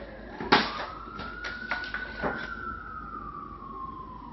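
An emergency vehicle siren wails at moderate distance, one long tone slowly rising and then falling, with a few sharp knocks and bangs scattered over it near the start.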